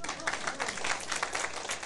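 A lecture audience on Taiwan's government gives dense, steady applause that is fairly quiet and continuous, with no clear gaps between claps.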